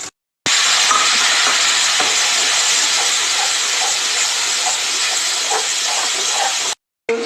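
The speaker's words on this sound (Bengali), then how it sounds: "দারচিনি তেজপাতা ফোড়ন দিয়ে দিয়ে তেজপাতা দারচিনি" Bay leaf and cinnamon tempering in hot oil for katla fish kalia give a loud, steady sizzling hiss that lasts about six seconds, then stops abruptly.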